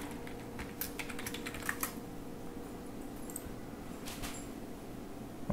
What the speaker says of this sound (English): Start typing your Jenkins user ID